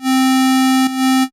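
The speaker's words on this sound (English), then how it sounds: "sounds very shit because it's literally just a square wave" A synthesizer sounds a plain square wave held at middle C, a steady buzzy tone sustained loudly for about a second, briefly dipping once before cutting off.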